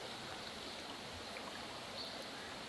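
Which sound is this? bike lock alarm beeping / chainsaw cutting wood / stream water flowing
stream water flowing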